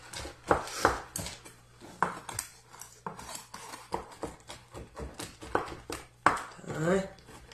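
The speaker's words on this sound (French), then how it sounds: "on va approximativement hacher 50 g de chocolat" About 50 g of chocolate is chopped with a knife on a board, giving repeated sharp knocks in an uneven rhythm, close and moderately loud, with a person talking between and over the cuts.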